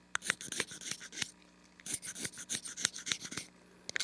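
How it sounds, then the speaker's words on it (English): A cane reed tip is scraped flat with a knife in repeated close, raspy strokes, bursts of scraping separated by brief pauses, with no one talking. "we're just kind of doing a flat scrape"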